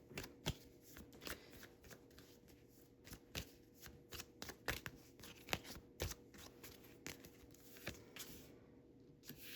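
Tarot cards being shuffled in quick bursts of crisp riffles and taps, close and fairly soft, with no speech.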